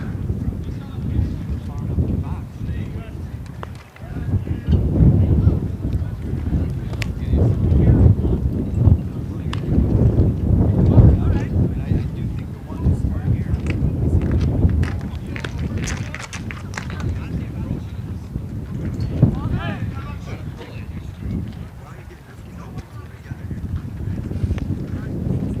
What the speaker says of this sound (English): Stiff wind out of the west